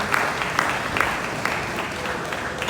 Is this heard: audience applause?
yes